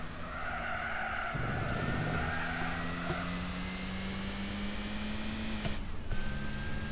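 A race car engine in Gran Turismo 4 droning steadily at high revs, holding a flat buzzing tone against the rev limiter, then a quick break and shift into a new, lower-pitched pull, with tire noise underneath.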